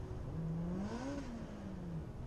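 A race car engine revs up in a short rising whir, the pitch climbing and dipping as it strains without pulling away, steady and fairly close with no talk.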